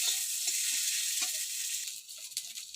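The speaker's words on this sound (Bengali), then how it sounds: "তো পেঁয়াজটা ভেজে নিচ্ছি।" Onions fry steadily in hot oil, a dense continuous sizzle with soft crackles that holds level for a few seconds and thins slightly toward the end.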